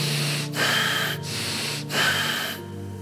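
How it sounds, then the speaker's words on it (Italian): Deep, fast, rasping breaths in a guided meditation practice, drawn in three strong bursts with brief pauses between, close and loud over a faint low steady drone. "Deep and fast, rasping breath, deep and fast."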